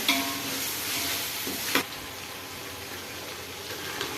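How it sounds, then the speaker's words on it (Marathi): Chicken biryani masala with ginger-garlic paste being stirred in a pot, a steady sizzling fry with scraping spoon strokes and one sharper knock partway through, close and continuous. "मिक्स करून घेऊ, चांगला हलवून घेऊया।"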